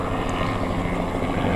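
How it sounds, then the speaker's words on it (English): A news helicopter drones steadily overhead, a loud continuous rumbling roar with no pauses or other sounds. "there's a helicopter overhead"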